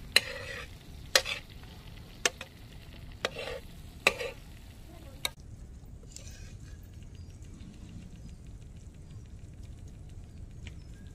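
Masala-coated croaker fish frying in a pan, Mangalore style, sharp spatula knocks and scrapes in the first half, then a quieter steady sizzle without speech.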